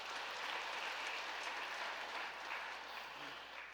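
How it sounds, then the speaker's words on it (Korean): A church congregation applauds during a Sunday worship service, a steady, even wash of many hands clapping together that holds at a moderate level throughout without pause. "하나님께 박수 드리겠습니다. 영광의 박수로."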